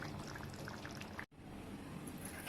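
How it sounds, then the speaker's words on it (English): Pumpkin curry (a Maharashtrian pumpkin sabzi) being poured from a pan into a bowl: a steady, soft wet pour and trickle lasting a couple of seconds, with a brief break midway, close by and fairly quiet. "I have poured the pumpkin curry in a bowl"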